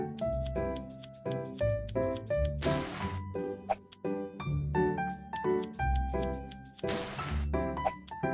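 Snipping scissor sounds from a sewing video game as transparent fabric for a fluffy underskirt is cut, a series of quick crisp clicks and snips over bright, tonal game music, with no talking.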